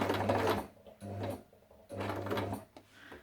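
A Lidl sewing machine stitches in three short, even bursts of rapid mechanical whirring, separated by quiet pauses, close and moderately loud.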